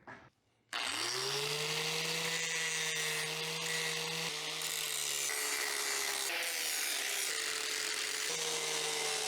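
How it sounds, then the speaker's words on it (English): An angle grinder bevels the edges of steel pieces cut on a bandsaw, preparing them for welding. It starts up after a brief quiet moment, then whines steadily and loudly at close range, its pitch dipping slightly as it bites into the metal. "But we need room for the welds, so let's put a bevel on everything."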